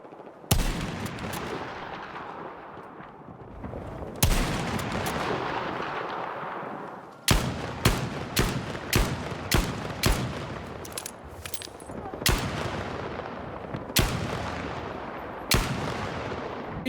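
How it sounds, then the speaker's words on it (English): Sharp, booming sniper rifle shots from the game Battlefield 6 ring out repeatedly, several spaced apart and others in quicker succession, each followed by a rolling echoing tail. "You can hear the difference in the sniper shots with the War Tape sound effect and without it."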